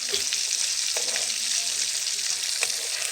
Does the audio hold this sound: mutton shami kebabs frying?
yes